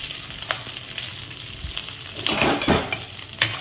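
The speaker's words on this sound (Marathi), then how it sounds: "हे छान परतून घ्यायचं." Fenugreek seeds, urad dal, curry leaves and dried red chillies fry in hot oil for a traditional mango dish, making a loud, steady close-up sizzle with brief crackling bursts and light stirring scrapes.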